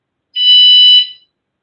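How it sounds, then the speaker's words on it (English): An electric bike's security alarm emits one loud, piercing electronic tone burst lasting under a second, then cuts off, with no talk over it. "You have your alarm,"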